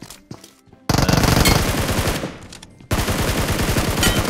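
A SCAR-L rifle firing in PUBG Mobile, heard as loud rapid automatic bursts in two long runs after a few quieter taps at the start.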